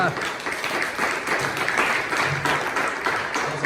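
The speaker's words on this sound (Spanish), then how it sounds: "Denle un fuerte aplauso." Steady crowd applause fills a church service, a dense wash of clapping that holds evenly throughout with a few voices mixed in.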